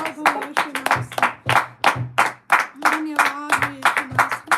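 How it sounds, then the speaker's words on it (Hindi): A church congregation claps rhythmically in praise during a Friday prayer service, steady hand claps under continuous singing and speech. "जोरदार तालियों से तारीफ करें खुदा की।"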